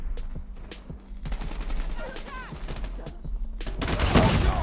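A DR-H rifle fires in a video game, a loud, rapid string of sharp shots in quick bursts that builds to heavier fire near the end, with faint game sounds underneath.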